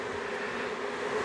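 Honeybees buzzing around brood frames lifted from a hive during spring dandelion flow, a steady close, dense hum filling the whole moment with no pauses.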